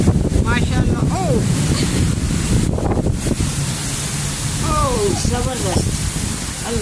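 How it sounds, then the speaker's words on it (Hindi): Very heavy rain driven by strong wind in the USA, a loud, constant roar with gusty wind buffeting close to the microphone, while someone talks over it. "बहुत ज़्यादा तेज़ बारिश हो रही है, बहुत ज़्यादा तेज़।"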